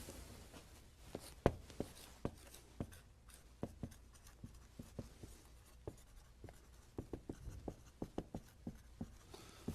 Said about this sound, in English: I'd like you to write down the answers.